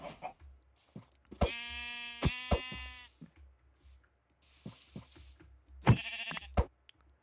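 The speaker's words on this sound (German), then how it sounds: "Also müssen wir noch ein Schaf killen." Blocky sheep in the game Minecraft bleat twice in clear, buzzy calls, separated by sharp clicking and hitting sounds of game action, in a quiet setting.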